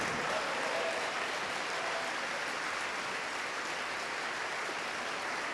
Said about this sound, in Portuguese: Vamos aplaudir ao nome do Senhor Jesus